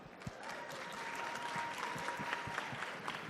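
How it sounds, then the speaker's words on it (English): A conference audience applauds a panel of gold-market analysts with steady, sustained clapping that stays even and full from start to finish. "So everyone, please give them a big round of applause."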